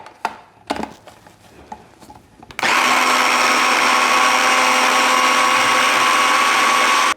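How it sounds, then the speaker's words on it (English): A blender purees hot black bean soup, starting abruptly after a few faint clinks and running as a loud, steady, continuous whir until it cuts off at the end. "So I'm gonna puree this up here."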